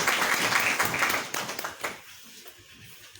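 A church congregation applauding with a dense burst of hand claps that thins out and fades after about two seconds into near quiet.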